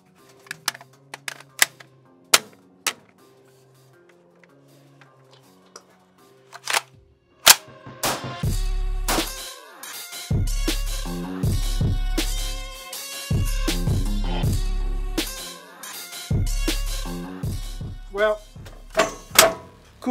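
A suppressed bullpup gun fires a series of sharp, punchy shots in irregular bursts, preceded by light clicks and handling noises while someone talks.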